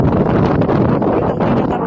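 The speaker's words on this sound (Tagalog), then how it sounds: "Mahangin." Strong wind blows at a hilltop Discalced Carmelite monastery in Muhraqa, Israel, a loud, steady roar buffeting the microphone without pause, with no talking.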